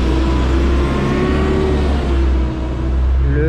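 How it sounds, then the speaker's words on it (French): A truck's engine drones loudly and close as it rolls through a narrow street in Ravenna, Italy, a steady heavy rumble with shifting revving tones that echo off the walls. "il y a des camions qui passent dessus"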